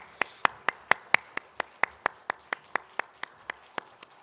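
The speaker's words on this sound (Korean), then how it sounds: "하나님께 영광의 박수 올려드리겠습니다." A single person claps in a church during a Sunday service, about sixteen sharp, evenly spaced claps in a steady rhythm that slowly soften toward the end, close and clear against a quiet room.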